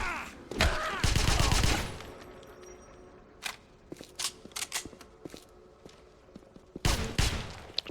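Suppressing gunfire in the Wolfenstein game on Xbox 360 comes as two loud sustained bursts, one at the start and one near the end. Scattered single shots and impacts pop in between at middle distance.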